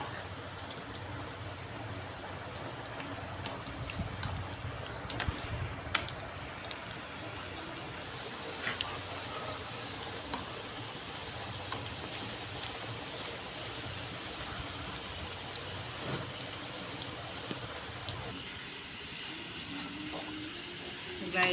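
Cabbage pakoda frying in hot oil gives a steady, close sizzling hiss with small crackles, continuous throughout, while someone talks over it.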